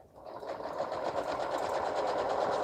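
A sewing machine stitches a minky baby blanket, running over the pins. Its close, steady whir starts quickly and holds at an even level throughout, with no talking.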